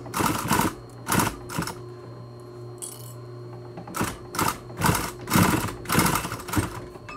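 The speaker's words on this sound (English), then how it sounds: "Get my elastic sewed a couple times." Sewing machine stitching elastic onto a fabric face mask, running in short bursts of a fraction of a second to a second, with pauses between them. The machine is close and moderately loud, and no one speaks.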